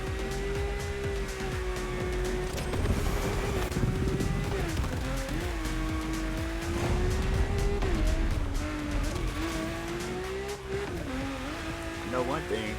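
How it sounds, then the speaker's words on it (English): A Lamborghini drifting in a racing video game, its engine holding a steady sustained drone with tire squeal, under continuous music-like tones and some talk throughout. "this Lamborghini drifting on here"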